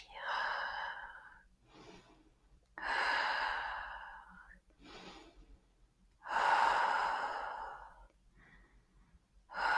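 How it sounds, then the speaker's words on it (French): Slow, deep breathing during a yoga stretch: long audible exhales alternating with quieter intakes, close to the microphone and evenly spaced over several cycles. "On inspire et on expire"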